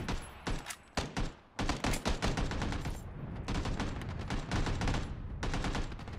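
Rapid gunfire in the PUBG Battlegrounds video game, with dense, loud bursts and overlapping automatic shots that continue almost without a break.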